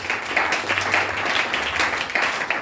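A church congregation applauding to acclaim the Lord during a service, steady close clapping from many hands that carries on for the whole stretch with a faint voice underneath.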